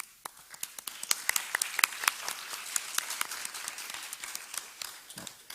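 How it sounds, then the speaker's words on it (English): An audience at an animation film festival talk gives a round of applause, with scattered, distinct claps popping out unevenly over a thinner bed of clapping, moderately quiet and somewhat sparse. "please give a round of applause to all of us, and especially to our participator."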